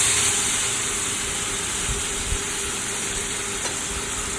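Onion paste sizzles in hot spiced oil on a high gas flame for a Bengali rohu curry, a steady close frying hiss with a few small pops and stirring knocks.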